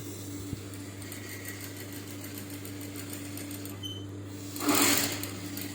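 Sewing machine stitching blouse fabric over canvas, running as a steady close mechanical whir through the whole stretch, with a brief louder burst near the end.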